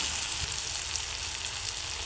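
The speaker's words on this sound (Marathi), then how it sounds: "यात टोमॅटो टाकून घ्यायचं भाजून।" Onion and tomato frying in a pan, a steady bright sizzle with a soft crackle, close and continuous for a couple of seconds with no voices.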